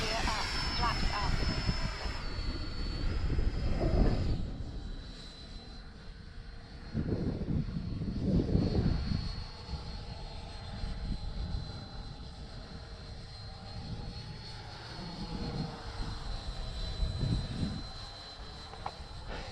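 A Freewing Avanti S radio-controlled jet flies over a grassy field, its high ducted-fan whine rising and falling as it passes, with a voice calling out over it.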